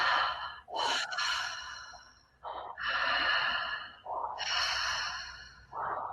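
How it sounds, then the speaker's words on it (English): Slow, deep breaths drawn in and let out through the nose and mouth, long airy inhales and sighing exhales repeating close to the ear with short pauses between them. "slow the breath way down"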